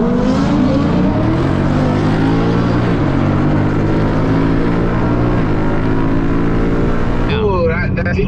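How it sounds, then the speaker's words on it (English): A Nissan GTR accelerates hard on a freeway with its exhaust shooting flames: a loud, continuous engine roar rises in pitch over steady road noise while people talk inside a nearby car. "that GTR shooting flames"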